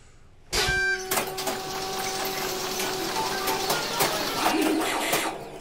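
After a short pause, a trivia wheel is spun, producing a sustained rattling, clicking whir with a tonal hum that carries on for several seconds at close range, with no speech.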